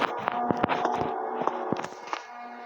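Footsteps sound in a horror video game, a series of irregular knocking steps over a steady droning background hum, close and moderately loud with no talking.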